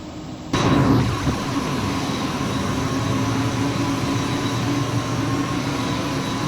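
Loud, steady roar of aircraft engines heard from outside the plane in Flight Simulator X, rising abruptly and then holding as a constant broadband drone with faint tonal hum.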